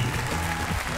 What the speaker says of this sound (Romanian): aplauze pentru cel de-al doilea concurent din această seară